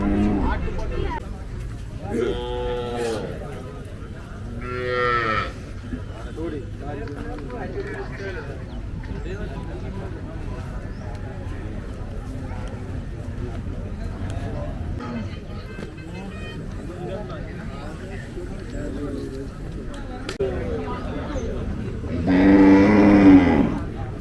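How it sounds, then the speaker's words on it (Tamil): Cattle at a Palayakottai native bull-taming event (nattu madu thavani) moo several times, a few loud calls early and a long bellow near the end, over a steady crowd hubbub with people talking throughout. "இங்கே என்ட்ரன்ஸில் முன்னாடியே கட்டியிருக்கக்கூடிய மாடுகள்ங்க"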